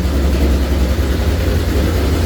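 A car engine built for over 1000 rear-wheel horsepower runs hard on a dyno, making a loud, steady low roar that fills the whole moment with no talking.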